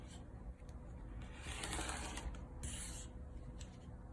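A rotary cutter rolls through fabric on a large cutting mat, giving a close, soft, continuous scraping rub with slight mechanical clicks, quiet and steady for several seconds.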